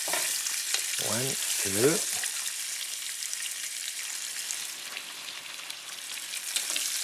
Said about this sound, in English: a little dash of olive oil here, and I'm going to cook my quail skin side on